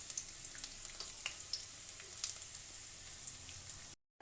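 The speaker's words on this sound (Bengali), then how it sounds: "ওই তেলের মধ্যে দিয়ে দিলাম রসুন।" Chopped garlic frying in hot oil, a steady close sizzle with scattered pops and crackles that cuts off abruptly near the end.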